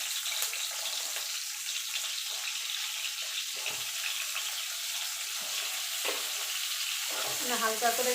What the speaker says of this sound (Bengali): আমি এই তেলে ঝিঙেগুলো একটুখানি ভেজে নেব।